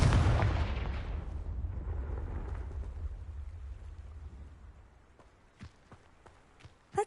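A Confringo blasting spell explodes in the Hogwarts Legacy video game, opening with a loud booming blast that rumbles and fades over several seconds, followed by a few faint scattered thuds and taps.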